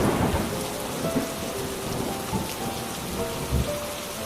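Heavy rain pours down steadily during a thunderstorm, with a dense, continuous hiss and low rolling thunder underneath.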